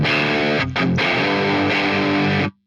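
Heavily distorted electric guitar played through a Mesa Dual Rectifier amp, loud sustained chords with a brief gap early on, ringing out for a couple of seconds before cutting off abruptly.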